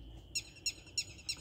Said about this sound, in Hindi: इसको हम मैना कहते हैं